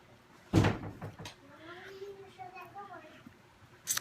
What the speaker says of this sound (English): Thomas, can you shut the door, please?